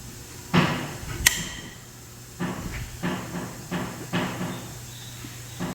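Car wheel bolts cracked loose one at a time with a wrench: a run of short, fairly close metallic knocks and strained bursts, with one sharp clank standing out early and quieter shop background between efforts.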